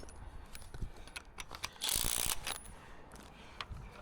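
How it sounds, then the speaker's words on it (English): A clamp slid along a fibre-optic drop cable to tighten the line, giving a short ratcheting, scraping burst of metal on cable, close and fairly loud, among faint clicks. "I'm gonna just slide this clamp over to tighten my strand"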